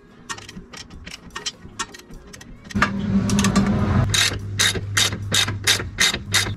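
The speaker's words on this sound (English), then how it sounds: "we're gonna take off these three nuts" A hand ratchet clicks in quick repeated bursts while loosening three 17 mm nuts under the front left wheel area of a 2022 Subaru BRZ during a BC Racing coilover install, with a steady low hum through the middle section.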